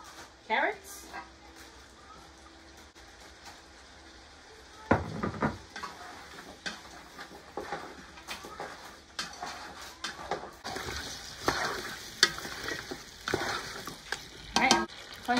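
Carrots frying in a pan with a faint steady sizzle, broken by intermittent scraping and clanking stirs of a utensil against the pan, louder in the second half.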